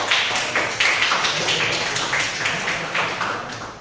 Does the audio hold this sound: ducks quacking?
no